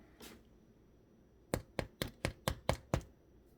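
Seven quick knocks on a freshly baked homemade bread loaf give a hollow, dull thump in an even rhythm, close and fairly soft, after a brief faint sound at the start.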